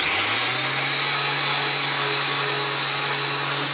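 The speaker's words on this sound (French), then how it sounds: "Vous allez voir en passant la ponceuse." A steady, loud power-sander whine runs continuously against an aluminium alloy wheel, with a constant high-pitched tone and a low hum.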